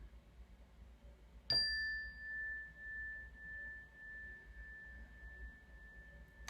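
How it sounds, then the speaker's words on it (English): A single bright meditation bell strike rings out, then a clear pure tone hums and fades slowly over several seconds in a quiet room. "I'll ring the bell to begin today's meditation."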